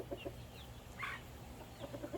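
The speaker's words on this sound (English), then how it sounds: "They plucked the hell out of this chicken." A hen with many feathers plucked out by young chicks clucks in a few short, fairly close bursts over steady background noise, with no talking.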